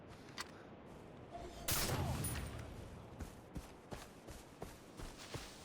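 Gunfire in the shooter game Far Cry 3, with a burst of shots followed by scattered single cracks and thuds over a low steady background, moderately close and without talk.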